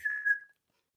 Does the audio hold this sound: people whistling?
yes